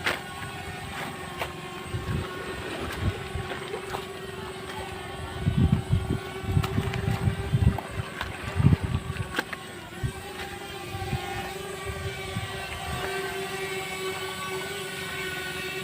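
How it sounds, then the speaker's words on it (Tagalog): A faint, steady buzzing whine drifts overhead, like a small drone, over wind and a low rumble, with brief louder thumps midway. "Yun, may drone."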